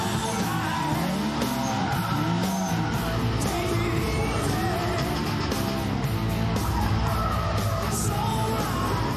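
Race cars at a Japanese car festival circuit rev and roar, engines droning loudly and continuously under shouts and crowd noise, with a dense layered mechanical texture that stays intense throughout.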